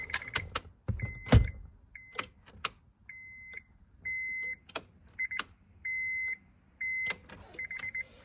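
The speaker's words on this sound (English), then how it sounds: "So the battery's dead, but it's beeping." Short electronic beeps from a device with a dead battery sound alone in a repeating pattern, tones of about half a second spaced apart, with a few clicks and a thump early on, in a garage.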